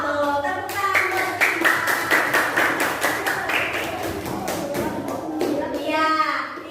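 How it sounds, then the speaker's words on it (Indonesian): Children in a classroom clap their hands in a rapid, rhythmic burst of sharp claps, lively and close, with young voices chattering and calling out over and around the clapping. "tepuk tangan buat siapa?"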